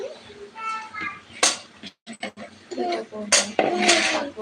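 Fried hilsa fish being lifted from the pan into a bowl, with several sharp clinks and scrapes of utensils against dishes, close and moderately loud, over background voices and someone speaking.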